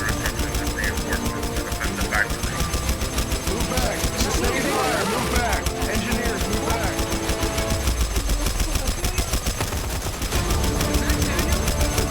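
Sustained automatic gunfire rattles continuously and loudly throughout, a dense rapid stream of shots with no break.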